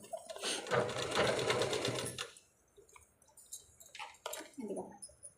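A sewing machine stitches fabric in a close, fast, rattling run that lasts about two seconds and then stops, followed by short soft handling noises and brief talk.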